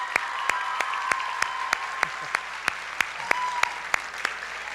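At a school graduation for the John M. Bailey School in Bayonne, clapping for award winners comes as sharp, evenly spaced claps in a slow steady rhythm over a faint room hum.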